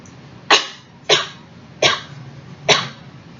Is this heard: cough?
yes